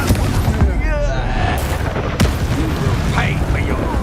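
Fire spells blast repeatedly in a Hogwarts Legacy battle on PS5, loud booming whooshes and crackles mixed with shouted spell incantations and combat noise.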